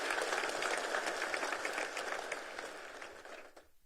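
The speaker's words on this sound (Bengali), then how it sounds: "তাদের সবাইকে আবার জোরে হাততালি দিয়ে একটা সবাই মিলে হাততালি" An audience gives a hearty round of applause at a government ceremony honouring fishermen, dense continuous clapping that gradually thins and fades out toward the end.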